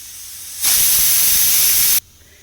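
While boti sambar cooks on the stove, a pressure cooker whistle lets out one loud, close, steady hiss of escaping steam lasting over a second, then cuts off sharply.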